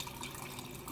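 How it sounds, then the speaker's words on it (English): Filtered water pours steadily into a pot holding a cup of rice, a continuous splashing, trickling stream at close range with no talking. "Then I'm going to put some filtered water in there."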